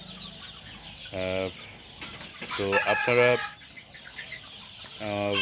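Several broiler chickens on sand litter cluck and squawk in short bursts, fairly close, with a brief spoken phrase between the calls.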